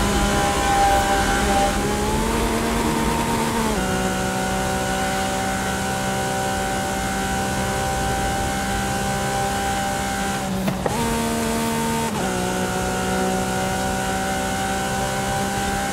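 A high-revving car engine holding a steady, loud drone in fifth gear at very high speed in Forza Horizon 5's Hot Wheels expansion, with brief pitch dips as the sustained tone briefly breaks and recovers.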